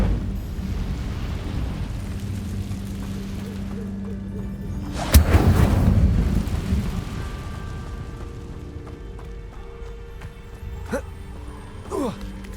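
Incendio fire spell cast in Hogwarts Legacy, a sudden loud whoosh and burst that rumbles and fades, among ambient game sounds, with someone speaking.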